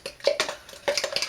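Blood orange mead must being stirred in a container, giving a few close, irregular scraping and clinking strokes against the vessel with no talking.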